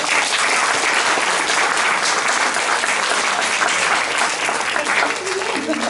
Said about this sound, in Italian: a cui va un grandissimo applauso